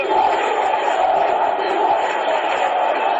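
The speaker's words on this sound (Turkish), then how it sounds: "Şu anda da tribünlerden hep birazdan Ozan Tufan tezahüratı" Football stadium crowd chanting a player's name after his goal, a dense roar of many voices that holds steady across the stands, heard at a distance without breaks.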